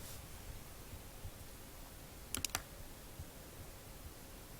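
A quick burst of a few keystrokes on a computer keyboard, faint and close, in an otherwise quiet room with a low background hiss.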